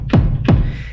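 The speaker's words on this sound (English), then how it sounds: "I've got my kick drum on the first track, and it sounds like this." Two punchy kick drum hits from an Elektron Analog Four drum machine land close together, each a quick, deep, downward-sweeping thump with a short tail, with no other sounds around them.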